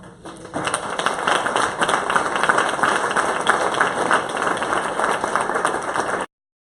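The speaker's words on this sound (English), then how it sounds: "can I get a big round of applause" A panel audience breaks into a big round of applause at the close of a CMO/CTO discussion, dense even clapping that starts abruptly, runs steadily for about six seconds and then cuts off.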